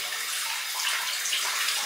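Water runs steadily from a tap while a safety razor is rinsed, a continuous close hiss and splash with slight fluctuations and no speech.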